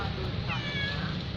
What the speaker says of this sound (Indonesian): Tuh kucing udah minta jatahnya tuh